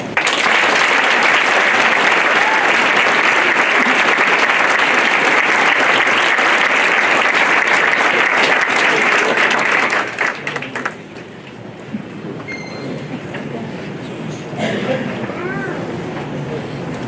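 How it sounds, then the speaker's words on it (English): An audience applauds and claps at the Laurel Awards ceremony, a dense, loud, sustained roar for about ten seconds that then drops off abruptly, leaving quieter room murmur and scattered voices. "Can we hear a round of applause again for all the speakers?"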